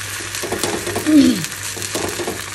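The second side of an uttapam fries in a film of oil over a medium-low flame, a soft continuous sizzle close by with a brief higher tone rising above it midway.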